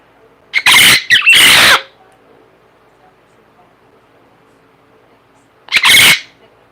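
A pet Amazon parrot lets out piercing screams: two loud, close shrieks back to back, a few seconds of near silence, then a third shriek.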